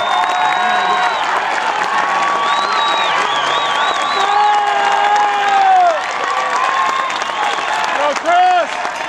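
A stadium crowd at a Wisconsin track mile race in 2006 cheers steadily for runner Chris Solinsky as he leads, with continuous applause and shouts throughout and a voice talking over the noise.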